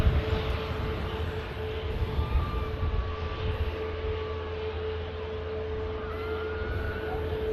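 An Airbus airliner departing Manchester Airport, heard as a faint, steady distant engine roar with a thin sustained whine, fairly even from start to finish and free of talk.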